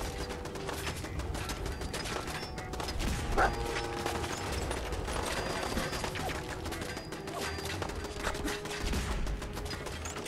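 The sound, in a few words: turret gunfire in video game Fallout 4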